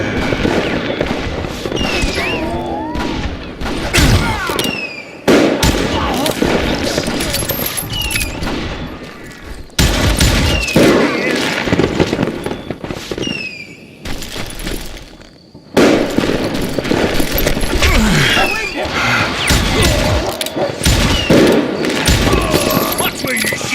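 Gunfire in the Western shooter Call of Juarez: Gunslinger, a dense, loud barrage of rapid shots and crackling volleys running almost continuously, with brief gaps, mixed with shouting voices.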